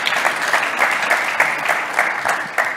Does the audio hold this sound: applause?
yes